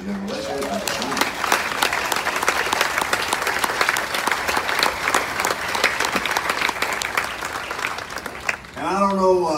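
An audience at a Music City Walk of Fame unveiling claps steadily and densely for several seconds. A voice breaks in over the applause at the start and again at the end.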